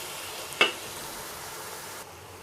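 Ginger garlic paste sizzling in hot oil for chicken biryani, a steady soft frying hiss with one sharp stirring clink early on, close and without talk.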